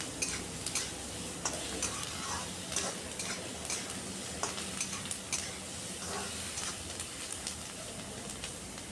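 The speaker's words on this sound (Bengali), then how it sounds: "পেঁয়াজগুলোকে একটু লাল লাল করে ভাজবো।" Chopped onions frying in chili oil, a constant crackling sizzle with light ticking and scraping as they are stirred, close by and steady without speech.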